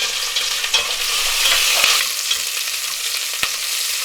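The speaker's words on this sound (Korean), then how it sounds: "고기를 볶을 때는 한 5분 정도만 충분히 볶아주시면 고기 표면이 갈색으로 변하면서" Pork belly stir-fries in a pot for kimchi stew, a loud, close, continuous sizzle with scattered sharp taps and scrapes of a utensil against the pot, and no voices.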